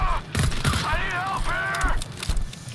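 Gunfire rings out in the co-op shooter GTFO: a few sharp shots and a short burst close by, mixed with game sounds and tonal effects, while a voice talks over part of it.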